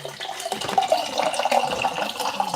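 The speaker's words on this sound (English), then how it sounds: "I'm gonna get some water. Tell me if you hear the water flowing." Water runs steadily from a household tap into a sink, a continuous close splashing rush with no talking over it.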